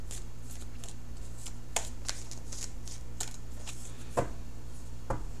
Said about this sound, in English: I will be cutting the cards in just a few more seconds.